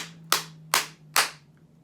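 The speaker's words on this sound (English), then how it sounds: "And remember the claps at the end." Three crisp hand claps at the end of a chicken dance, evenly spaced and close, with a faint steady hum underneath and no talking.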